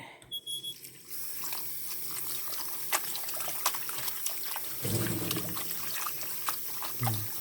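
Cold tap water runs and trickles while spinach leaves are washed, a steady faint stream broken by brief splashes and handling clicks, with no one speaking.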